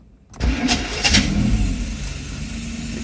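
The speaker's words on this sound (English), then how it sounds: "So let's start the car up." A Mercedes S600 coupe engine cranks briefly and catches, then settles into a steady, close running rumble.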